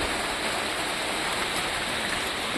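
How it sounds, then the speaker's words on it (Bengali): Rain falls steadily outdoors at night, a dense, even wash of drops pattering on surfaces all around, loud and continuous with no voices. "এই যে বৃষ্টি পড়ছে"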